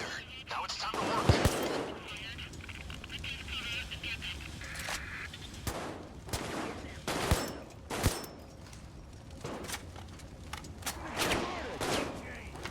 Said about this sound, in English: it's time to just pull out the rifle and go to town on these guys.